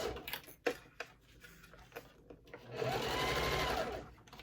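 A domestic sewing machine back stitches while sewing a wallet, with a few short bursts of clicking and a longer steady whirring run near the end, close and fairly quiet.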